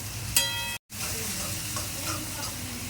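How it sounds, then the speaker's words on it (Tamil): Masala ingredients sautéed together in a pan, giving a steady close-up sizzle with scraping stirring that cuts out for a split second and then carries on. "இப்போ எல்லாத்தையும் போட்டு ஒரு வதக்கிக்கலாம்."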